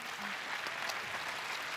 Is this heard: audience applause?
yes